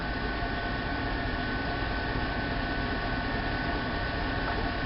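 Chevrolet Suburban engine idling: a steady, even low drone with broadband hiss, constant in level and unbroken, with no voices.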